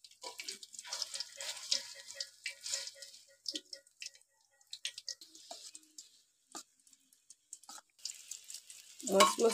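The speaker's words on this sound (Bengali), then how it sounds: "মচমচ করে লাল লাল করে পুর ভাজা নিলাম।" Stuffed pointed gourd frying in a pan, a faint crackling sizzle in irregular bursts with a louder clatter at the end.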